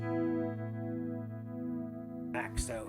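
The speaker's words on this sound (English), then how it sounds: "the green light means I've just added chorus" A sustained electric guitar chord through a NUX Stageman floor preamp shimmers with a wavering chorus effect, followed near the end by a brief burst of louder strummed notes.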